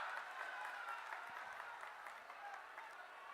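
Crowd applauding at a political rally in the Gorakhpur Lok Sabha constituency, steady distant clapping from a large audience with no break.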